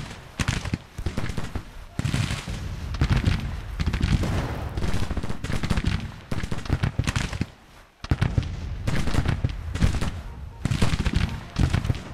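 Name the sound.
rifle volley fire in a Civil War video game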